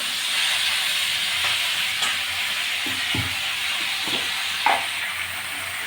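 Tomatoes fry in hot oil seasoned with panch phoron, giving a steady broadband sizzle and hiss throughout, with a few soft stirring knocks and one brief louder clatter near the end. No one speaks.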